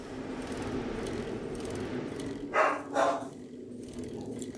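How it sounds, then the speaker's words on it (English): Luther, a pet dog, gives two short barks in the middle distance over a steady background hum, with nobody talking. "This is reserved barking for him."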